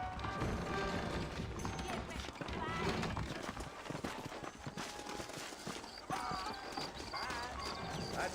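Horse hooves clip-clop in a steady rhythm with occasional neighs in the video game Red Dead Redemption, under ongoing talk and game-like background sounds.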